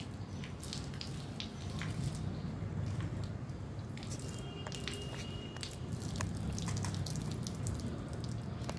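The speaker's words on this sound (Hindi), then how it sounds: "गाइस मेरे को पानी डाल रहा है, मैंने नीचे से दबा दिया पाइप को ताकि मेरे पे पानी डाल पाए।" Water sprays from a garden hose pipe squeezed at the end, a steady close broadband hiss with faint splashing and drips that runs unbroken throughout, with no talking.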